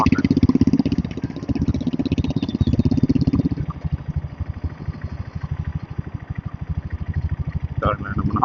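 A diesel Royal Enfield Bullet motorcycle riding at a steady slow pace on a Chennai road, its engine thumping in a dense, even rhythm close up, loud and continuous with a brief rise near the end.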